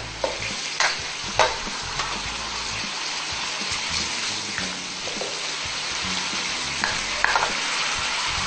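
Adobo being stir-fried in a pan with soy sauce, a steady sizzle under repeated scraping and stirring strokes, close and continuous with no talking.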